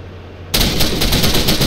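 A tank's heavy machine gun in the Arma 3 Cold War tank battle game opens up abruptly after a short lull, a loud, close, continuous rattle of rapid shots.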